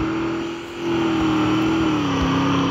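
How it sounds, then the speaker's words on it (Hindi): A video game motorcycle engine holds a steady, loud revving drone, dipping briefly then rising again and sliding slowly lower in pitch, with no talking over it. "पहले अपन को ये मोटरसाइकिल ले लेनी है, इससे अपन आसमान में उड़ सकते हैं।"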